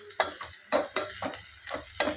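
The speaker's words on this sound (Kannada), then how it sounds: "ಫಸ್ಟ್ ಇದು ಫ್ರೈ ಆಗಲಿ." Vegetables frying in a pan for veg pulao with masala added, a close sizzle broken by rhythmic stirring scrapes, about eight strokes over two seconds, with no talking.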